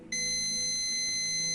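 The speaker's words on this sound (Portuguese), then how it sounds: "se esse pad tiver comunicação com o nosso FPC, ele deve bipar, deve dar continuidade" Multimeter in continuity mode beeping steadily as its probes bridge a pad and the FPC connector on a Samsung J7 Prime phone board, one sustained electronic tone held after a short start.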